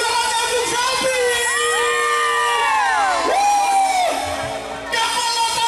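A crowd cheers, whoops and shouts loudly at an event welcoming a singer's arrival, with high excited voices rising and falling over a few seconds before easing into a steadier roar.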